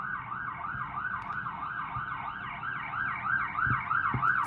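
An emergency siren wails in a steady rising and falling cycle, moderately distant and continuous, over a low background rumble with a few soft thumps.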